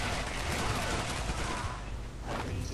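Dense gunfire from snipers and machine guns in a video game, a loud continuous fusillade of overlapping shots with faint talk mixed in.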